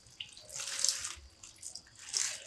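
Tap water runs over hands being rinsed, a close splashing wash that swells and fades in two bursts over a quiet background.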